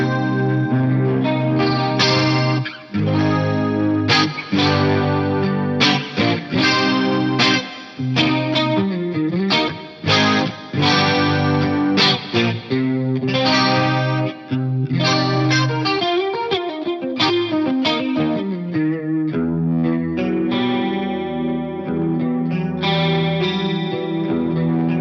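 Electric guitar played through the clean preset of a Zoom 9150 multi-effects unit, a shimmering tone with chorus and echo, strummed chords and picked notes ringing on continuously for a long stretch.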